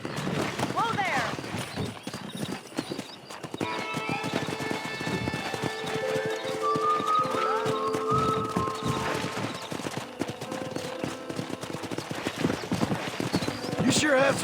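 Horse hooves clip-clop steadily in a Red Dead Redemption game scene, with a horse whinnying and voices talking over the galloping rhythm.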